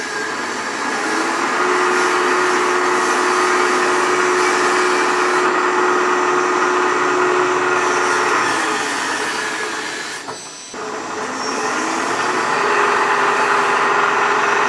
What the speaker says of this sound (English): We have it set on some parallels and we're just drilling a hole.